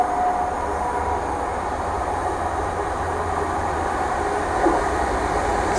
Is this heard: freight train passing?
yes